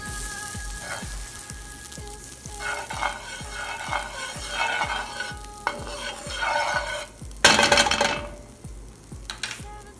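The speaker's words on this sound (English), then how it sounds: "add 2 teaspoons of butter, then wait until the butter melts," Butter melting in a hot pan gives a soft sizzle under steady rhythmic stirring scrapes, close and moderately quiet, with a brief louder burst of frying near the end.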